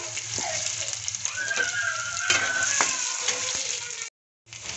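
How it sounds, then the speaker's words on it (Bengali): Garlic goes into hot oil left over from frying fish and sizzles loudly and steadily with a broad crackling hiss, broken by a few utensil clinks and stirring scrapes, before a brief drop to silence near the end. "মাছ ভাজা তেলের মধ্যে দিয়ে দিচ্ছি রসুন"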